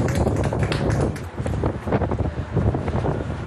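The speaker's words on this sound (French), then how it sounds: "Principale difficulté pour les 130 concurrents, affronter un vent froid," Cold, violent wind buffeting the microphone during a stair-climbing race up the Eiffel Tower in Paris, a steady loud rumbling roar with gusty surges throughout, no speech.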